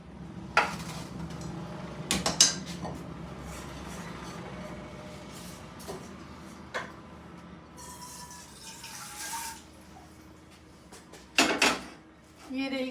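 Metal pots and pans clank and scrape in a home kitchen as a kadhai is pulled out, scattered loud clatters and knocks between quieter stretches, with someone talking.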